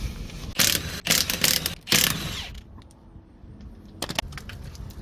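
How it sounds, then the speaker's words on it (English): Lug bolts come off a Subaru Outback wheel in several sharp bursts of ratcheting and metallic clicking, then a few faint clinks follow in a quiet outdoor setting. "Go ahead and take the wheels off. These will be 19mm bolts."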